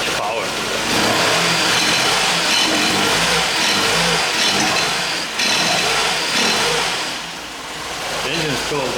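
A Mercedes 190E engine runs and revs unevenly, a mid-pitched drone that swells and dips over several seconds, heard fairly close with steady mechanical noise.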